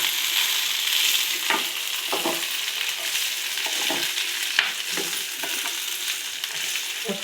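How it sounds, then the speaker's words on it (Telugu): Cut okra sizzles in a pan of hot oil as it is stirred, an even close hiss punctuated by regular scraping knocks of the spoon against the pan, with no voices. "బెండకాయ ముక్కలు వేసిన తర్వాత బాగా కలుపుకుని"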